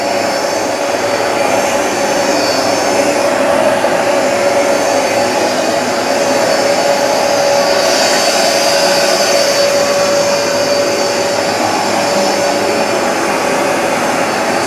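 A Hoover Smartwash Pet XL carpet cleaner runs in standard mode with a steady, loud motor whine and rushing suction airflow, continuous for the whole stretch with a slight swell in the middle, no talking.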